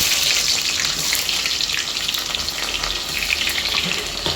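Sliced onions for biryani fry in hot oil, giving a loud, even, continuous sizzle with no pauses and no voices.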